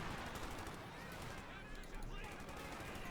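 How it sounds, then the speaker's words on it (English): Machine-gun fire in a Company of Heroes 2 battle, a dense, continuous crackle of rapid shots mixed with other gunfire and explosions, under a commentator's talk. "Machine gun there firing away."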